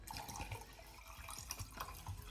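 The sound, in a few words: pouring hot drink into a container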